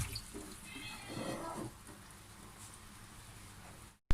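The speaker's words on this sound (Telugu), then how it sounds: "ఇప్పుడు ఈ పన్నీర్ని మనం అంతా నీట్గా కడిగి పెట్టుకున్నాం కదండి." Homemade paneer in a strainer is rinsed under cool running water, a soft steady trickle and splash nearby, fairly quiet, with no voices.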